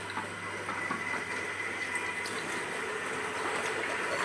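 Tap water running steadily into a container at home, a continuous even gush with a faint background hum, no talking.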